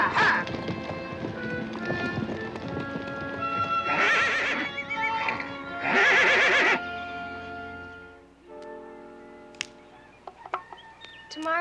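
Wild Assateague mares and stallions neigh and whinny loudly amid clip-clopping hooves and splashing as the herd is driven to swim, shrill calls rising over a busy, echoing crowd of animals.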